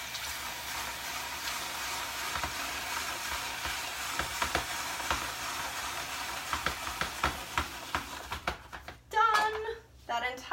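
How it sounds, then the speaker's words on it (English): A handheld spiralizer slices a big red onion in a kitchen, giving a steady close scraping and crunching with rapid irregular clicks, ending in a brief louder rattle near the end. "Watch how fast this will slice an onion."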